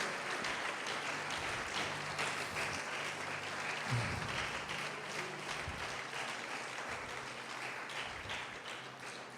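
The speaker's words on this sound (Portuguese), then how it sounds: "Quem pode aplaudir, glorificar e adorar Jesus?" A congregation applauds during a church service, a sustained wash of many hands clapping at an even level for several seconds over a low, steady background tone.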